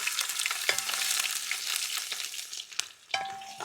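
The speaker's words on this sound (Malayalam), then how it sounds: "അപ്പോൾ നമ്മുടെ ഓയിൽ നന്നായിട്ട് ചൂടായി വന്നിട്ടുണ്ട്. നമുക്കിനി 1 ടീസ്പൂൺ കടുക് ഇട്ട് കൊടുക്കാം." Mustard seeds, fenugreek and ginger crackle and sizzle in hot oil for a Kerala-style sardine pickle, a steady bright frying hiss with a few sharp pops and stirring scrapes, close and continuous without talk.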